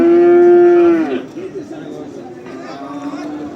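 Calves bound for Barda livestock market in Azerbaijan, one giving a loud, close, sustained moo for about a second, followed by crowd chatter and further distant lowing in the busy market.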